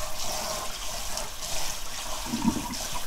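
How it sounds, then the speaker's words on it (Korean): Blanched hijiki seaweed rinsed under a steady stream of cold running tap water, a continuous close splashing rush with a brief stronger gurgle near the end. "이제 찬물에 또 헹구면서 식혀줘."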